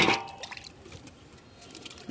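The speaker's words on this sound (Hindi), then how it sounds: "अभी हम इसका पानी देंगे" Water is poured onto compost in a plant pot, with a brief splashing gush at the start and then soft trickles and drips. The sound is close and quiet.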